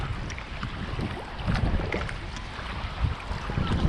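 A kayak is paddled through shallow, weedy water among rocks on the coast near Durdle Door. Steady splashing and rushing water with wind noise, and louder paddle strokes recur irregularly, close by.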